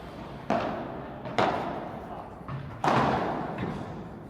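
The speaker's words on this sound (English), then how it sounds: "Again, good volley, 2-1. And a smash on the net." Padel balls struck with volleys during a practice match, several sharp hollow thuds spaced a second or so apart, reverberating in an enclosed court, with voices present.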